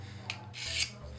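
A knife blade drawn across the flat side of a 600 grit diamond mesh pen sharpener, making two quick close rasping strokes, the second longer and louder.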